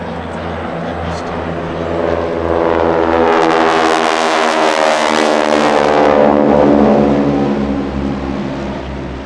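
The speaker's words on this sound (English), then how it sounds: "The prop tips will go supersonic, and you will hear, yes, indeed, all 6 of the Geico Sky Tigers." Six North American T-6 Texan propeller planes of the Geico Sky Tigers roar past at an air show, a loud droning flyby that swells to a peak and then fades away, with propeller buzz strong throughout.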